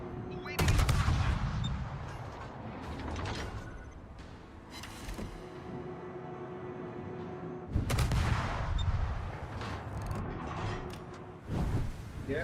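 Warship guns fire in a naval battle game, sharp booming salvos in two main bursts with rattling mechanical clatter and creaks between, loud and close over a low engine drone, with brief talk.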